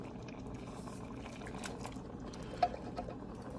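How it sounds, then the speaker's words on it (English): Two cans of Creole-style beans sliding wetly into a pot of deer chili, a soft sloppy gurgling pour with a faint scrape or clink of the can, quiet and close. "let's get those beans dumped in"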